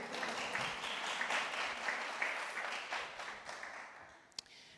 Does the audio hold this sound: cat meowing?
no